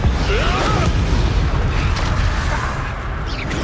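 Spell blasts in the Hogwarts Legacy video game: a loud, continuous booming rumble of explosive magic filling the whole stretch, with dense low-end roar and scattered crackles and whooshes over it.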